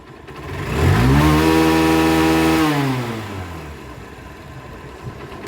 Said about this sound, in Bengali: এই যে পুরাতন সিবিজেড এক্সট্রিম বাইকটা, এই যে বাইকের সাউন্ড শুনুন।